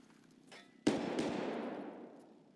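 A single distant gunshot in the video game Escape From Tarkov cracks sharply and then echoes in a long fading tail, with a fainter pop just before it.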